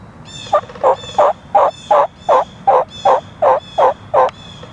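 A wild turkey calls in a steady series of about eleven evenly spaced, loud, nearby bursts during a crossbow hunt, with no voices over them.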